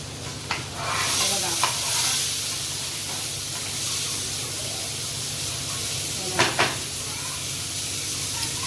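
A large pomfret fish coated in Agri masala fries crisp in a pan, giving a steady, close hiss and sizzle with a few light scrapes and clinks.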